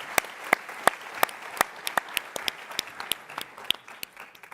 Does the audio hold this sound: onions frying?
no